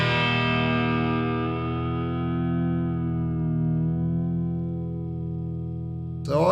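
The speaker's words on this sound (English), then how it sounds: "So you can hear how much it's actually detuning there." A guitar chord rings out with a detune modulation effect from a Sonicake Matribox pedal, giving a thick, slightly wavering shimmer as it slowly decays. It sounds alone, with no talking, until a brief sound at the very end.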